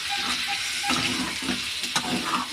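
Chicken curry with potatoes is stirred in a pan, the spoon scraping in a few soft strokes over a low, steady sizzle of oil, close and alone with no voices.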